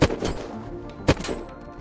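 Two sharp sniper rifle shots ring out in the survival game Unturned, one at the start and another about a second later, each a loud crack with a short echoing tail over faint ambient noise.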